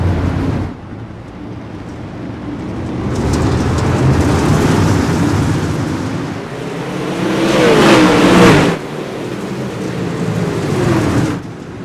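Super late model race cars roaring around a track during a B main heat, a dense continuous engine drone that swells and fades as cars pass, with a loud surge and Doppler-like pass near the middle before dropping back.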